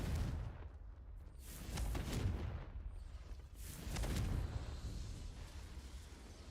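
A Confringo fire-blast spell going off in Hogwarts Legacy, heard as rumbling, booming bursts that swell twice over a steady low roar of background noise.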